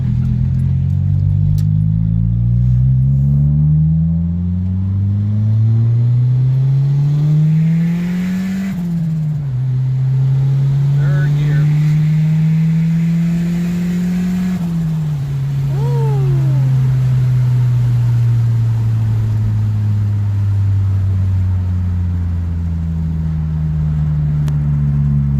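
A turbocharged 1993 Honda Civic EG with a D15B VTEC engine pulls hard in second gear on a strip, its engine note climbing steadily, pausing at a shift, then rising again loud and close, with no talking.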